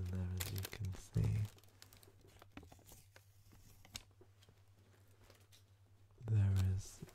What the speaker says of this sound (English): A bit of crinkling sounds in there, as you can see.